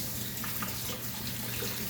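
Tap water runs steadily into a sink while a seedling tray is rinsed, a continuous close hiss and splash with no talk over it.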